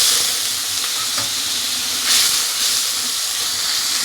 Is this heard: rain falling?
no